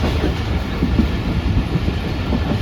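The 151UP Shah Latif passenger train runs on the tracks between Karachi and Hyderabad, a steady, close, continuous rumble with rhythmic clickety-clack of the wheels over rail joints and no voices.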